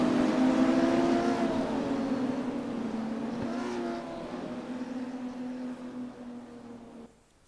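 Porsche Cup race cars in a sim racing game roll through a steady formation lap at East London, engines droning in a sustained, slowly easing hum that fades out near the end.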